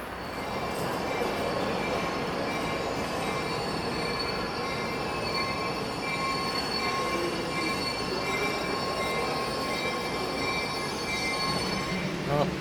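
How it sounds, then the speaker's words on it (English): A train pulls out of a station, rumbling steadily with metallic squealing wheels, loud and continuous throughout, with faint voices in the background. "I missed my train by 5 seconds. It's literally still pulling out of the station now."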